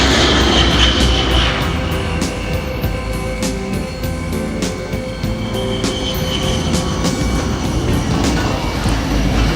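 A Fokker F-27 Friendship turboprop passes over the runway at an Icelandic air show in 1986, a loud, steady engine drone with a broad rumble that holds for the whole stretch, with no talk.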